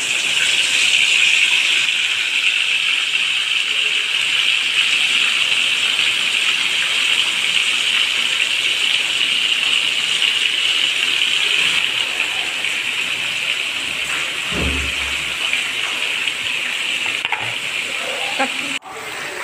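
Marinated chicken pieces fry in oil with a loud, continuous rushing sizzle that stays constant from start to finish, broken near the end by a brief knock.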